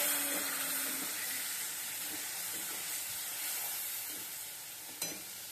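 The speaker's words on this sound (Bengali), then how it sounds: "এখন আমি মশলাটা দিয়ে দেব, হলুদ মরিচ গুঁড়া সব কিছু একসাথে, পেঁয়াজ বাটা আদা বাটার লগে রসুন বাটার সাথে দিয়ে দেবো, দিয়ে কষিয়ে নেব।" Potatoes fry in a pan with turmeric, chili, onion paste, ginger paste and garlic paste, giving a steady close sizzle with soft stirring scrapes and one sharp knock near the end.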